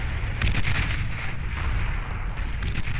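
Commander D-Gun fire in the real-time strategy game Beyond All Reason, with heavy booming blasts and rumbling explosions over a dense battle din, loud and continuous, no talking.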